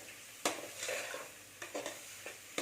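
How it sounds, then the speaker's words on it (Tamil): Spice powder sautéing with mutton for mutton chops gravy over medium heat, a soft sizzle under several distinct spatula scrapes and stirs spaced irregularly, close by and without talk. "கொஞ்சம் நேரம் வதக்கிடுங்க இன்னும் ஒரு ஒரு நிமிஷம் வதக்கலாம்"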